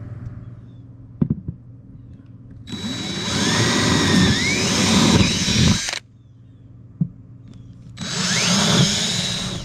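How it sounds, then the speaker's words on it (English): A power drill bores screw holes for a Garmin Fantom 18 radar mount on a boat, two loud sustained whirring bursts of about three and two seconds with quieter handling clicks between, no talking. "I need to go ahead and get the screws drilled."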